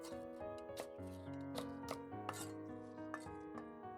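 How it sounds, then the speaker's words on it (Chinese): A knife chops thick green bell peppers into thin strips on a board, giving a series of sharp, irregular taps close up, with cooking music playing steadily underneath. "再把青椒切成细丝"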